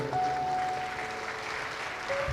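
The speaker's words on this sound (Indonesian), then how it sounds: "Tepuk tangan untuk guru kita Gus Dewan Abadi." An audience at an entrepreneurship event applauds a business coach, steady even clapping throughout with a faint sustained tone in the background.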